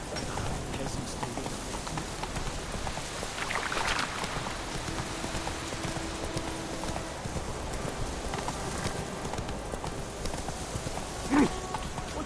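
Hooves of the horse Roach clip-clop steadily at a walk in The Witcher 3, a quiet rhythmic tapping under game ambience and a brief voice.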